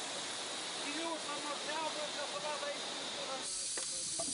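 A steady, loud hiss of escaping steam from a coal- and wood-fired steam engine in Romania fills the whole stretch, with faint tonal squeaks underneath and a brief change near the end.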